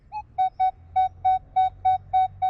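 A Minelab Equinox 800 metal detector sounds over a large cent coin, giving a string of eight clear, evenly spaced high beeps after one brief higher blip, loud and close with no talking.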